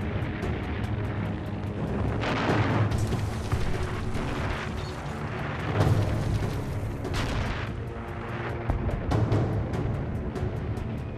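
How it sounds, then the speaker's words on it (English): German 88mm anti-tank gun in World War II combat, firing heavy booming shots at intervals of a few seconds over a dense rumbling din of battle, loud and close. "I watched the German 88. It fired six shots and burned up five tanks."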